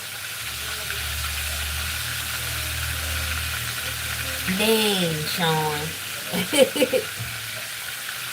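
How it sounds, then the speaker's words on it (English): Chicken frying in a pan gives a low steady sizzle under a brief spoken exclamation, with voices rising over the frying toward the end. "I just start frying chicken like"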